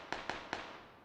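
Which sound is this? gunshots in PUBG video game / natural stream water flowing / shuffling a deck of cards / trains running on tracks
gunshots in PUBG video game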